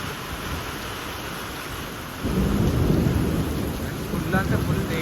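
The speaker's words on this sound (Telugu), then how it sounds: "వర్షం పడుతుంది ఇక్కడ సిద్దిపేటలో" A storm in Siddipet brings heavy rain that roars steadily, and about halfway through a deep rumble of thunder surges in, loud and close, and carries on under the downpour.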